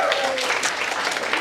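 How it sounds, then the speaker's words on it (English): Students at a school workshop break into applause, a dense wash of clapping heard briefly with a voice speaking over the start. "So give yourselves a round of applause."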